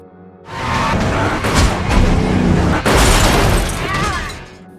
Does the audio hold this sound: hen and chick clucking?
no